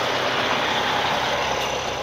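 A 2017 Ryder truck with a Cummins engine and manual transmission idles nearby in a steady, even rumble with no break.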